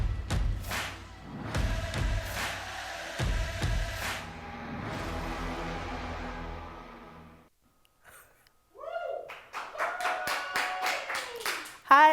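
A room full of students claps for a school leadership award on a student news show, a few seconds of scattered applause fading out before voices talk.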